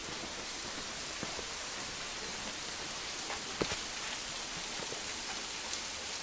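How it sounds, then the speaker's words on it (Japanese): Biwa waterfall on Mount Takao, a steady broadband rush of falling water heard close by, continuous and even throughout with no voices over it. "これが琵琶滝ですね。"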